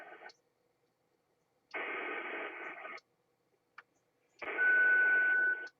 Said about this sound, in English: Turning the volume up on the radio so you can hear what's going on.